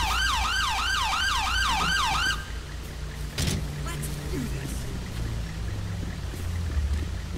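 An ambulance siren in GTA V during a police sheriff patrol in Paleto Bay, a loud rapidly wailing tone that cuts off after about two seconds, followed by vehicle rumble and brief thuds.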